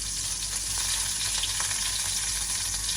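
Snake gourd, onion and green chilli frying in a pan with mustard seeds, a dense, even sizzle held steady and close for a few seconds, alone without voices.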